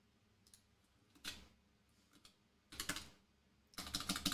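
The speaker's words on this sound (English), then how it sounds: "I'm trying to think and type at the same time." Bursts of keystrokes on a computer keyboard during Python coding, soft taps first and then louder, denser clusters of clicking near the end, with no voices.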